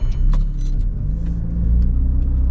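A learner driver's car rumbles low as it starts off in third gear, the engine labouring with a deep steady drone, close and fairly loud, with faint higher rattles above.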